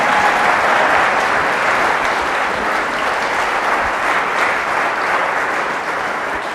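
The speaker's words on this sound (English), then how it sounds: "Please give a round of applause for Catherine Austin Fitts." A dense, loud, sustained round of audience applause greets speaker Catherine Austin Fitts at a talk, steady clapping from a large crowd throughout without pause.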